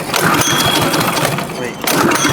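A scrap go-kart engine being restored sputters and cranks loudly without catching, a steady rough mechanical churn that dips briefly before surging again, with voices talking over it.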